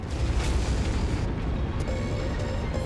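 A battle mech blowing apart in the MechWarrior video game, a dense, sustained rumbling blast with low booming weight across the whole stretch and a faint tonal whine emerging near the end.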